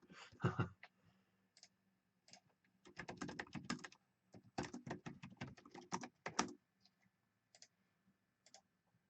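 Rapid bursts of keystrokes on a computer keyboard at a desk during a live hangout stream, close and clear, with short pauses between runs of typing.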